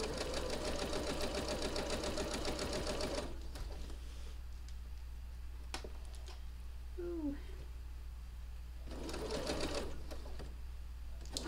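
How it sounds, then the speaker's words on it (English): A home sewing machine stitches an economy quilt block in two rapid, steady whirring bursts at the start and end, with a quieter stretch of faint room noise and a low hum between them. "I must stitch because I've only got two more to sew after this"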